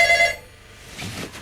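A telephone rings in a busy TV press office, with a short burst of bright electronic ringing tones at the start that cut off quickly, leaving a quiet room.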